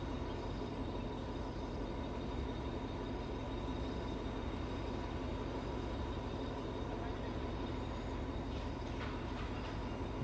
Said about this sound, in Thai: อยู่ที่หน้าอุโมงค์นะครับรถไฟย่องเขาครับ